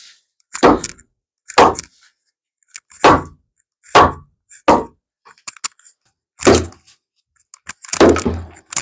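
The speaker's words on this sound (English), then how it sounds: "so I'm just going to knock them out with my hammer" A hammer knocks out toenailed wooden boards from a sinking shed: loud, hollow thunks struck one at a time in an irregular rhythm, close by, with a quick cluster of blows at the end.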